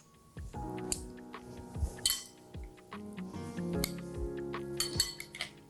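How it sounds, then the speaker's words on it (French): Octopus and vegetable salad tossed in a bowl, with clinks of cutlery against dishware and soft scraping and jostling in an uneven rhythm, close and fairly quiet. "Et maintenant, on va mélanger notre salade."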